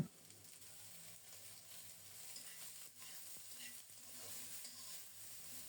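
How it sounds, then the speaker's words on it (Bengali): Ridge gourd fried with tempering spices gives a soft, steady sizzle in a pan, with faint stirring scrapes throughout and no voices. "ফোড়নের সাথে কিছুক্ষণ ঝিঙ্গেটা ভেজে নেব"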